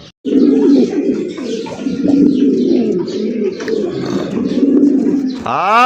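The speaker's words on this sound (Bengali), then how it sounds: "টাইগার গ্রিজেল রেসার কবুতর মাশাআল্লাহ দেখছেন ওর ডাকের স্টাইলটা দেখছেন" A tiger grizzle racer pigeon coos loudly and close, with repeated throaty rolling coos running almost continuously, a few faint chirps near the end.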